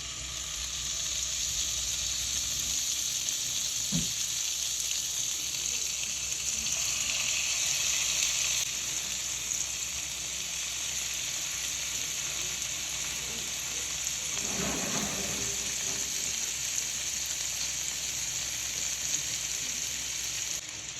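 Butter sizzling in a hot pan before chicken shashlik is cooked, a continuous close hiss and crackle with a couple of faint clicks and a brief stir partway through.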